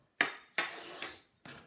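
Cups from a Schylling Garden Party toy tea set clink together in a toast, three short, bright knocks spaced apart with quick ringing decays, close and fairly quiet.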